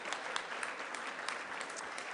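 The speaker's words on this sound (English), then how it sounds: "we can applaud that" An audience at a Rotary Club of Denver meeting applauds in a dense, even burst of clapping that fills the room and holds steady throughout.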